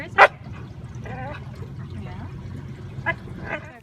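A search dog on water scent training at a reservoir gives a couple of short, sharp barks and yips over steady low background rumble and faint voices.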